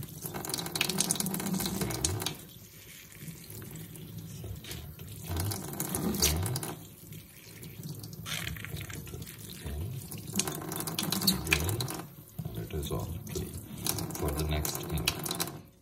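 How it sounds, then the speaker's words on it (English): Water rushes and gurgles steadily as it is sucked in while refilling a Brother printer ink cartridge, rising and falling in bursts with brief quieter gaps, close and fairly loud. "Suck the water in."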